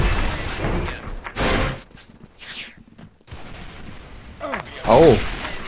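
Grenade explosions and gunfire in the first-person shooter Special Force 2, several separate bursts and booms scattered across the stretch with quiet gaps between them, and voices speaking in places.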